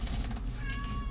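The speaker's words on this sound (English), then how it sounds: "Kitty cat wants to help." A house cat lets out a short, fairly close meow in a home kitchen where cabbage is being salted and massaged for sauerkraut, rising over a low background hum.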